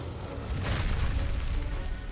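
Rumbling explosions from the Uragaan monster in Monster Hunter World Iceborne, a steady loud low boom and roar that swells and holds for about two seconds with no talk.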